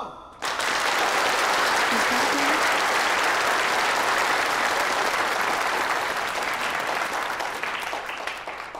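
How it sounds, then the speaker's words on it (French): A large audience bursts into sustained, thunderous applause to welcome the Haiji women workers at a village community gathering, the dense clapping starting abruptly and holding steady throughout, with no talk over it. "Accueillons les travailleuses de Haiji avec un tonnerre d'applaudissements."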